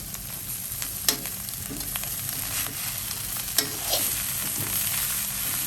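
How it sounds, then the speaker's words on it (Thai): Fried rice with salted fish, tomato, okra and large chilies being stir-fried in a pan, with a constant sizzle punctuated by several sharp scraping knocks of the spatula. "แล้วก็ผัด"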